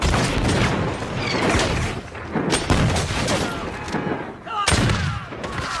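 Musket volley fire from a battle scene in the film The Patriot, a dense, loud crackle of shots with sharp bursts standing out over continuous rumbling noise, with no clear talk.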